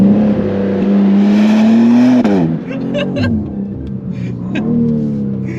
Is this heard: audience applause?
no